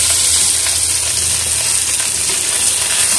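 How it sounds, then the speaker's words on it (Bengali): Charapona pond fish fries in hot oil in a pan, a loud, continuous close-up sizzle and crackle that holds steady throughout with no voices. "মাছটাকে দেখুন লাল লাল করে ভেজে নিয়েছি"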